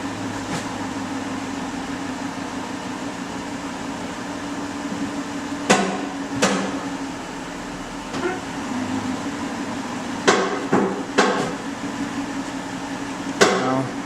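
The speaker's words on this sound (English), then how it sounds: "Now I'm going to put it in gear and let the wheel spin." A Chrysler 300 with an ABS fault code C1035 runs in gear with a wheel spinning freely, giving a steady mechanical drone marked by a few sharp clicks and knocks.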